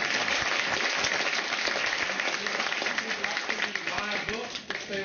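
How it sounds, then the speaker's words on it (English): A crowd applauds steadily for several seconds, dense clapping that thins slightly toward the end. "let's give them a round of applause"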